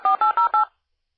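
Four short touch-tone telephone dialing beeps ring out in quick, even succession, clear and close, then stop into silence.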